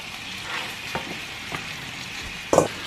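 Food frying in a pan at home, a steady soft sizzle throughout with a brief louder crackle or stir near the end, fairly close and with no talking.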